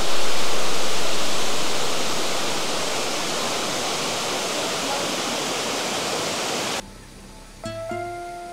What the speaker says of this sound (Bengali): এই যে গুহা, তার আগে এখানে একটা ঝর্ণা আছে,